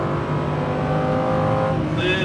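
Lamborghini Huracan engine under acceleration on a racetrack, a steady loud roar with rising harmonic tones near the end, with an instructor's voice talking over it.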